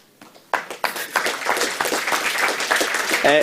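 Audience at a French tech talk on Android apps breaking into applause, starting with a few sharp claps and quickly swelling into steady, fairly loud clapping.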